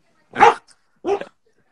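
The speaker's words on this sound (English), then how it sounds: "What kind of dog is that? So French bulldog." A French bulldog gives two short, close, gruff barks separated by a brief pause, with quiet surroundings.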